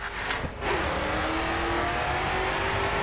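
A car engine revs steadily in the racing video game GRID 2, a sustained loud mechanical drone with a rising whine, holding close and continuous throughout without any talk.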